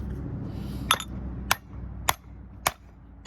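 Five sharp metallic hammer strikes on a transformer, knocking out copper, ring out at a steady, unhurried pace, close and clear over a quiet background.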